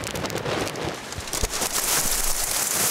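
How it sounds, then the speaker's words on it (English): Heavy rain and gusting wind lash down during a storm near a tornado, a steady broadband wash that swells louder toward the end, with no voices. "Here comes the rain."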